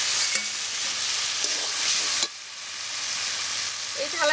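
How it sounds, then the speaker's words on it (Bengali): Fried tomato and a large fish go into a pan of sizzling mustard paste masala and are stirred, a loud steady frying hiss that briefly drops away midway, then resumes with scraping and clinks. "এবারে এখানে ভেজে রাখা টমেটো আর মাছটা দিয়ে দিচ্ছি।"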